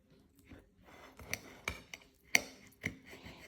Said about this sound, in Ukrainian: Ну і зараз кусочок одріжемо нашого пирога.